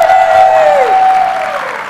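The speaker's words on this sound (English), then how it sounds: "Big round of applause for Marcel, please." Conference audience applauding a sponsor, a loud burst of clapping from the crowd that fades over two seconds beneath a sustained tonal ring.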